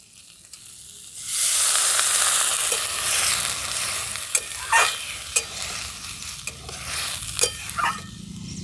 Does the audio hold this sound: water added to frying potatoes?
yes